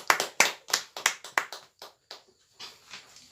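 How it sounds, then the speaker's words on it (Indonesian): A small audience at an indoor talk about stunting claps, beginning with a few sharp, strong claps that thin out to scattered, fading claps over about three seconds. "Kita berikan aplaus."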